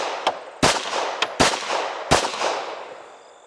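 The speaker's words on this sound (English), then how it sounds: "we're gonna put some rounds on the target anyways." A pistol fires at a target at seven yards on a range, giving three loud, sharp reports roughly a second apart along with a couple of fainter pops, each followed by a brief ringing decay.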